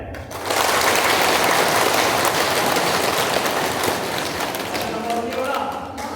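Schoolgirls at a government girls' inter college clapping in unison. The applause is loud, dense and sustained after a brief quiet start, then tapers slightly toward the end.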